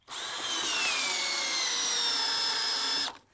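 A power drill cranks a 24-inch LIBRA 6,000 lb RV scissor jack on a trailer, a steady, close whine lasting about three seconds with a slight downward pitch shift under load before it stops.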